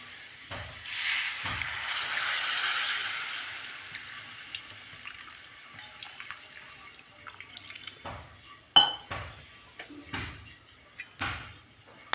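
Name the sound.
water poured into potato curry in a pan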